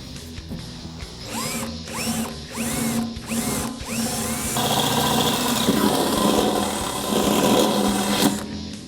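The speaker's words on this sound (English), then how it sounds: "we can upgrade to our bigger drill bit." A drill runs in several short, rhythmic bursts, then settles into a continuous loud grinding as a larger bit cuts through a Ford Bronco's metal fuel tank.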